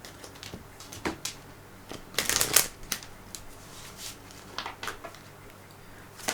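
Tarot cards being shuffled and pulled close up, with a louder burst of riffling midway among scattered soft taps, slides and card flicks.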